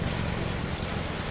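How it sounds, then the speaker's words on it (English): Steady, dense rainfall patters on a surface through the night, a constant close wash of drops with no pauses and no voices. "Just the rain"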